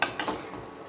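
Fish curry masala being stirred in a clay pot: a few soft scraping strokes with a light sizzle, quiet and close.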